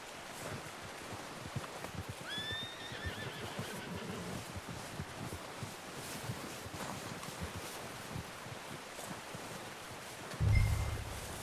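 A horse in Red Dead Redemption 2 gives a brief whinny in the early seconds over a steady wind-like outdoor bed with faint rustling, and a short thud comes near the end; no one speaks.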